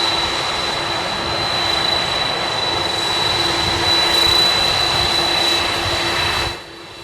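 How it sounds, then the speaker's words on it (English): Air Force One, a large jet airliner, taxis at Palm Beach International Airport with a steady, loud engine roar and a high whine that holds for several seconds, then drops away abruptly. "And now you're getting a look at Air Force One coming into place."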